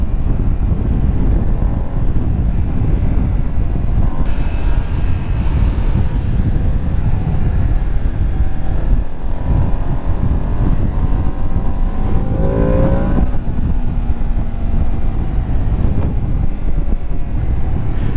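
A 2025 Ducati Panigale V2S sportbike accelerates on the road, its engine note climbing in pitch near the end. Heavy, steady wind rush largely buries the engine throughout.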